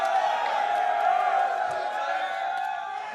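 A large arena crowd at the League of Legends Worlds 2013 group stage, with TSM fans present, roars and cheers continuously in a dense, sustained wash of voices.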